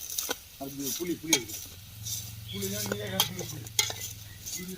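Pork fry is turned over in a pan with a spoon, giving irregular scraping and clinking over soft sizzling while a voice murmurs nearby.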